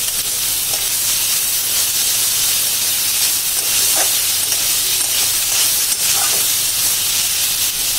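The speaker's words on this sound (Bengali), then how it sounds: "তেল ছেড়ে দিয়েছে, এখন এর মধ্যে আমি দিয়ে দেব গ্রেট করা সয়াবিন।" Grated soybean fries in hot oil with a steady, dense hiss and sizzle, close and continuous, with no voices.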